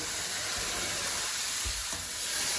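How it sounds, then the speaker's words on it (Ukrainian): Chopped onion and pieces of pork fat sizzle in a frying pan, a bright continuous crackling hiss with occasional low thumps and stirring noises, loud and close throughout. "Цибулька повинна дуже гарно підсмажитись. І от такі шматочки сала я закидую до цибулі."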